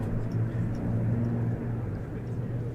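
Airplanes sweep past at a Friday evening air show, a loud, steady rumbling roar that fills the whole stretch without a break.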